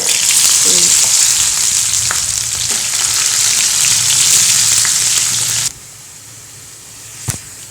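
Mustard seeds, asafoetida and curry leaves fry in sesame oil: a loud, close, crackling sizzle that runs steadily, then abruptly drops to a much quieter hiss, followed by a single sharp clink.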